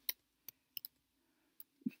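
A computer mouse clicks several times in sharp, isolated ticks spaced irregularly across a couple of seconds, close and quiet against a faint hum.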